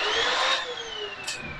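A Vo.temm 4-in-1 vacuum cleaner runs over a floor with a loud, steady motor whine whose pitch slowly drops, plus a brief hiss of suction near the end.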